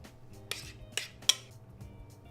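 A spoon layers ricotta into a baking dish, three quiet clinks and scrapes of metal against the dish in quick succession, with soft handling sounds in between.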